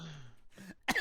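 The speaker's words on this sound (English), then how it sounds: "Why am I coughing again?" A single short cough or throat clear bursts out near the end, close and fairly loud, after a quiet stretch.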